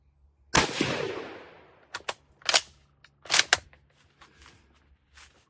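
A rifle fitted with a recoil pad fires one loud, sharp shot that rings and decays, followed by clicks and clacks of the action being handled, with no talking.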